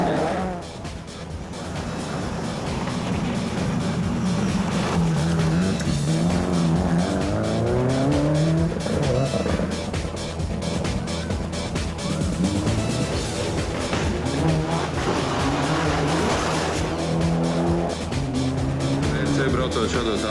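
Rally car from the game Rally Sport 3D racing at speed, its engine revving and shifting pitch steadily with tire noise, loud and continuous throughout while someone talks over it.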